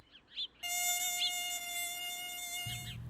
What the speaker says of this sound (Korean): 이제껏 보았던 것에 비하면 아주 큰 모기였다